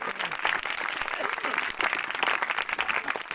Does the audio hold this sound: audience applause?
yes